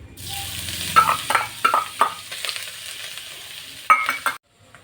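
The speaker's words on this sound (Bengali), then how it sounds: "দেখুন আমার আদাটা প্রায় ভাজা ভাজা হয়ে গেছে।" Ginger paste fries in a pan over a low flame with a close, steady sizzle. Repeated stirring scrapes and light clicks break in before the sound cuts off abruptly at the end.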